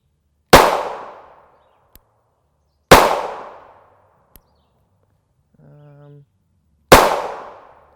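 Hellcat subcompact pistol with an Apex trigger firing 9x19mm 115-grain FMJ rounds in steel Shell Shock cases, three sharp loud shots spaced seconds apart, each with a decaying echo, faint casing ticks and a brief tone between.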